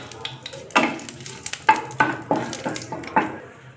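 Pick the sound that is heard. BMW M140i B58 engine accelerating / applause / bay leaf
bay leaf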